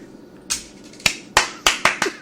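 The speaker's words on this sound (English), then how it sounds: "clapping" Six separate sharp hand claps in an uneven rhythm, loud and close, with no talking.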